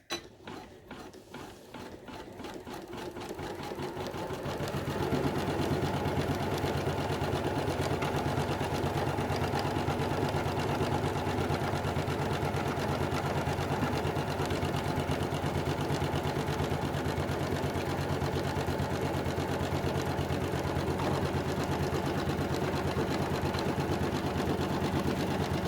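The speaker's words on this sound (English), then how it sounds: "Now you can see at this point the machine is starting to do some stitching" Embroidery machine stitching fabric and wadding onto backing fabric held in a hoop, a steady fast mechanical whir of needle strokes that builds after a few seconds of start-up and runs on evenly, close and moderate.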